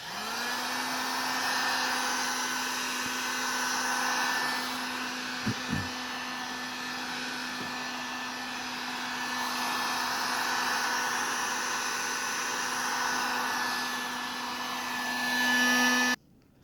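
A heat gun on its higher setting blows steadily while warming a Lexus LS460 headlight, a close, continuous airy whir with a couple of faint clicks, cutting off at the very end.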